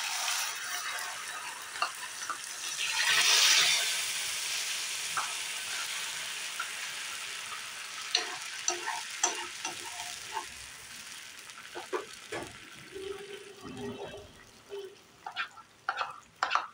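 Curd and sesame paste hitting hot oil tempered with panch phoron, a strong sizzling hiss that swells early and settles into steady frying with occasional clinks and pops from stirring.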